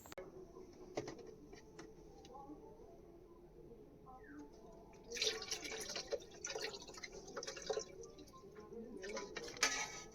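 Water is poured and drips during aquarium cleaning; faint drips come first, then a steadier splashing pour starts about halfway and continues with bursts of trickling.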